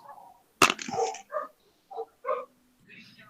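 Dogs barking and yipping in the background of an online call, a sharp close bark followed by several shorter whimpering yelps mixed with people talking.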